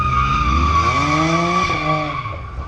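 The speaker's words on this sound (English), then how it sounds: "Warming up street tires." Car street tires squeal loudly and continuously at a street meet as they are warmed up, a sustained high tonal screech with engine drone underneath, close and unbroken, no speech.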